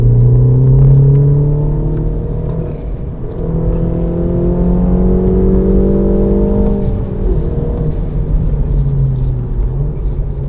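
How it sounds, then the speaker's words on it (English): An F56 Mini Cooper S engine with an Eventuri intake drones loudly from inside the car, pitch sliding down and rising again as the throttle lifts off and returns, with road rumble beneath. "that noise when you let off the throttle"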